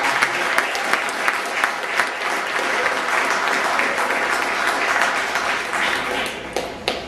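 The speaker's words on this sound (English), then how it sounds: "I'm waiting for you to clap." A lecture audience breaks into applause, a dense, sustained wash of many hands clapping loudly for several seconds with sharper individual claps standing out, tapering slightly at the end.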